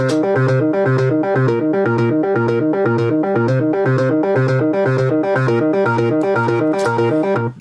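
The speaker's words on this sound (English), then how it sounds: "now I can blend the distortion in with it as well." A virtual instrument plays a steady, rhythmic pattern of repeated chords and pulsing notes with a distortion effect blended in, the grit swelling and receding over the loud, continuous phrase.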